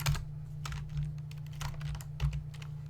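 Fast, uneven typing on a computer keyboard, a quick patter of close key clicks with a few louder strokes over a low background hum; no talking.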